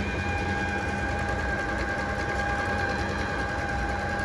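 A Brother computerized sewing machine hums steadily and close, running continuously at an even rapid stitching pace as it sews a moon-shaped embroidery design.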